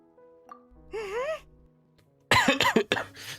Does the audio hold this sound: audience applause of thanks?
no